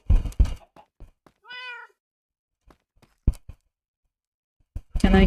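A pet cat gives one clear, drawn-out meow, set amid scattered thumps, knocks and handling noises in a quiet room, followed by a burst of rustling at the end.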